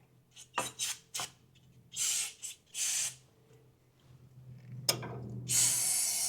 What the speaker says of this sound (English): I'm gonna spray off that there caliper.